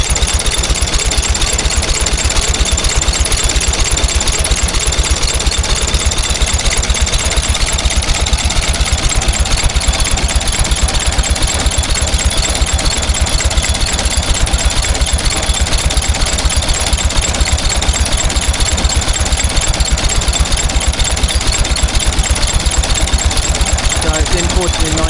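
A 1918 International Titan 1020 vintage tractor, a World War One era engine laid on its side and running on TVO, chugs with a steady, loud, rapid knocking beat throughout, under background voices at a steam working weekend.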